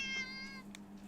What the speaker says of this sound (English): Cat sounds annoyed with you.